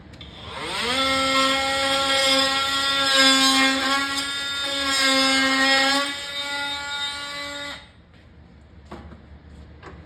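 A cordless battery-powered oscillating multi-tool cuts into wood in a workshop, giving a loud, steady high-pitched buzz with strong harmonic whine that wavers slightly under load before cutting off, leaving faint room noise.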